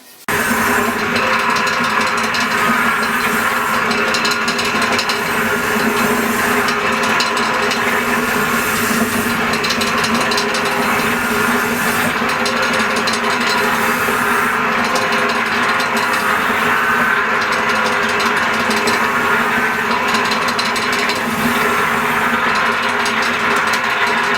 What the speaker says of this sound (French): Donc on va voir la machine en fonction là, à l'œuvre.